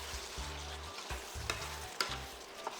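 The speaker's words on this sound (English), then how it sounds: "Next, add in the green parts of the green onions." Green onions are tossed into a sizzling chicken and mushroom stir fry, giving a soft, steady fry with a few scraping stirs and light clinks of the utensil against the pan.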